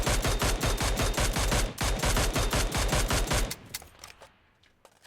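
Rapid automatic gunfire from a gun in PUBG Mobile rattles in two steady bursts of evenly spaced shots, loud and close, followed by a fading tail and quiet, without talking.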